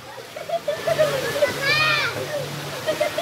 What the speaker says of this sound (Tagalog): Talon lang.